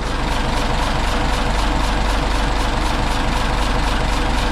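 A boat's engine runs steadily during a sea trial, a loud, continuous low throbbing drone with a regular pulsing rhythm and no talk.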